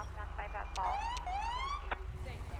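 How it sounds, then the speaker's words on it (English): A PA 300 police siren on a 2016 Ford Explorer of the Pennsylvania State Police in GTA 5 gives a short wailing sweep and rising whoop, with brief yelping bursts over a low engine hum. "I do love this PA 300 siren as well"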